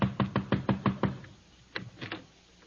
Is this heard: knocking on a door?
yes